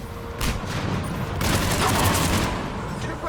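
Rapid automatic fire from a mounted gun during a shuttle assault in the Mass Effect 3 video game, a dense sustained fusillade of loud, close bursts that swells and keeps hammering for the full few seconds.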